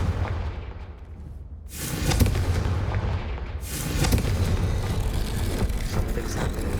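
Confringo fire-spell explosions in Hogwarts Legacy, two loud broadband blasts a couple of seconds apart, each followed by sustained crackling rumble, with no talking.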